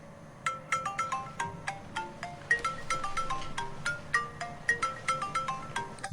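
A mobile phone ringtone plays a bright, repeating electronic melody of short chiming notes, steady and moderately loud, with no voices over it.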